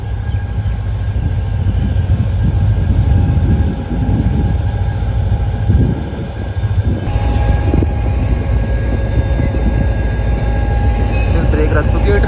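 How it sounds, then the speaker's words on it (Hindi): The 11 Up passenger train pulls out of Ring Road station in Karachi with a loud, steady rumble of wheels and carriages, a faint squeal riding over the clatter as it gets under way. "तो रवाना हो रही है 11 up ring road railway station से कराची से हवेलियाँ के लिए"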